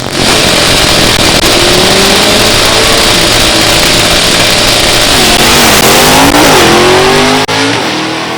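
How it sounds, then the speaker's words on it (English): A stick-shift Camaro drag car with a 350 small block engine races down the strip, its engine roaring loud and close as it revs, shifts and climbs again, with the pitch rising and dropping at each gear change. "350 small block, stick shift, Camaro"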